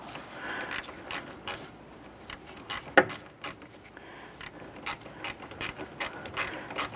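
A hand ratchet tightens an upper radiator hose clamp on a 1993-1997 Ford Ranger, giving repeated short clicking bursts at an uneven pace, close and fairly quiet with no talk.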